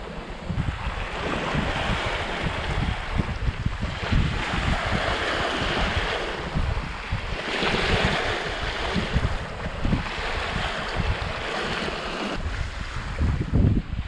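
Gusty, unsteady wind rushes across a sailboat at sea with squalls about, while waves wash and slap against the hull in a continuous loud roar, no voices.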